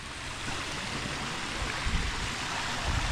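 Hot spring water, around 60 degrees, flows steadily out of a pool outlet, a loud continuous rushing and gurgling close by with no speech.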